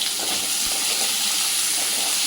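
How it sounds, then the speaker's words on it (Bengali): Chopped onion frying in a pan for a crab curry with cauliflower and potato gives a continuous bright sizzling hiss, steady and close, with no talking. "এবার পেঁয়াজটা ভাজা ভাজা হোক"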